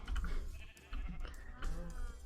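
Sheep bleat in a modded Minecraft game, giving three short, wavering baas one after another that sound close and clear. No one talks over them.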